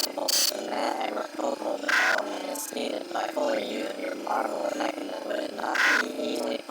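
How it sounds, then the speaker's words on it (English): Creepy garbled, distorted voice sounds of Bonnie and Chica from the first Five Nights at Freddy's game, a continuous growling, roaring warble with harsh bursts, loud and unbroken throughout. "the creepy garblings that Bonnie and Chica do are the same garblings that are in the Night 5 phone call"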